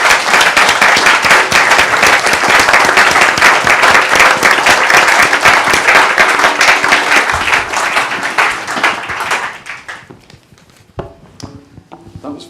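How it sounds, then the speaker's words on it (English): A crowd at an exhibition opening claps loudly and continuously for about nine seconds, then the applause thins out into a few scattered claps before fading to near silence. "join me in a warm round of applause for the curators, for a member of panelists, and by applauding, we'll open the exhibition together"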